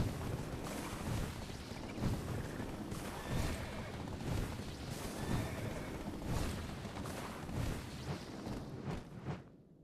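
A horse neighs and whinnies in the video game Black Desert, loud and repeated amid a dense wash of game noise and clattering effects across the whole stretch.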